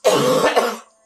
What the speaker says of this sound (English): Thank you for coughing.